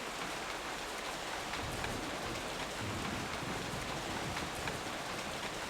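Steady jungle rainfall in the Ghost Recon: Island Thunder video game, a dense even hiss of drops pattering on foliage that holds constant throughout with no voices.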